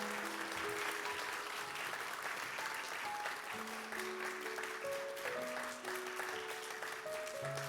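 Sustained applause from a church congregation during a Sunday service fills the room evenly, with a piano melody playing underneath throughout.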